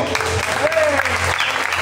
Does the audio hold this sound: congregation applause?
yes